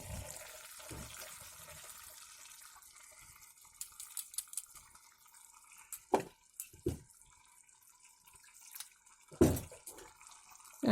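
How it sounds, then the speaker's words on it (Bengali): Water is poured into a cooking pot of rice-flour paste with fish head and bottle gourd greens, starting as a steady flowing stream, then quieter with a few sharp splashes and knocks. "একটু জল দিয়ে দিচ্ছি"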